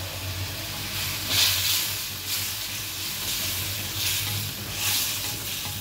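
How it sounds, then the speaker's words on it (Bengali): A blended paste of turmeric, green chili, ginger, cumin and garlic sizzles and fries in a pan while being stirred, giving a steady loud hiss that swells in a few soft waves. "এবার 5-7 মিনিট মশলাটাকে বেশ ভালোভাবে কষিয়ে নিতে হবে।"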